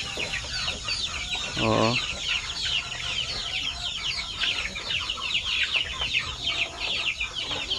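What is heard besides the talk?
Basilan chickens clucking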